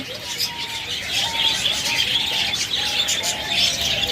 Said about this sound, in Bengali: দেখুন অসংখ্য পরিমাণ পাখি রয়েছে